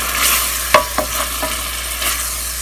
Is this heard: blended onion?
yes